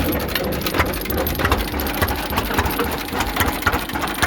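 An old John Deere GP tractor engine runs with its pulley spinning, a steady, close mechanical chugging with an even pulsing rhythm and no voices.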